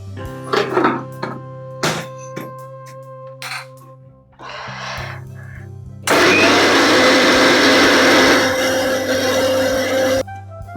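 A mixer grinder blends a banana-chiku milkshake with cold milk and sugar, starting with a few short loud pulses and clunks, then running in one steady, loud, whirring burst for several seconds before cutting off.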